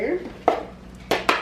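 Brussels sprouts being tossed with a tablespoon of oil in a bowl, giving a few sharp clinks and knocks of a utensil against the bowl between softer rustles, close and brief.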